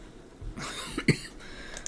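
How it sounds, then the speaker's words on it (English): A single short cough, followed by a bit of throat clearing, comes from a woman close by in a quiet room. It is soft and brief, with faint rustling before it. "Oh, this stupid cough."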